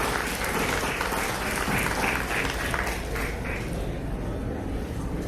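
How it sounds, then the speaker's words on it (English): Sustained applause from a large audience at a graduation ceremony, a dense steady wash of many hands clapping at an even loudness throughout, with no voices rising above it. "please give them a round of applause"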